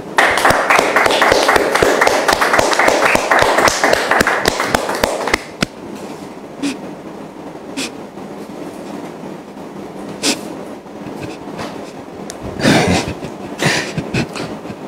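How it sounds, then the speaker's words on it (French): A hall audience at a gathering bursts into dense, steady applause to welcome a guest; the clapping stays loud for about five seconds, then stops abruptly, leaving a quiet room with a few scattered knocks. "Et merci de le recevoir sous vos applaudissements, s'il vous plaît."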